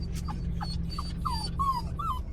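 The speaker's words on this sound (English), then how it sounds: "Sorry for the dogs in the background making noises" Several high-pitched dog whimpers and whines repeat in a steady series, fairly close, from dogs inside a car, over a low background hum.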